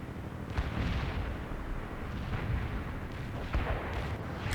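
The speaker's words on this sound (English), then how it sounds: "I need fire support, Romanov." Artillery fire in the video game World in Conflict, a dense continuous rumble of distant booms and blasts with a few sharper reports standing out, steady and loud throughout.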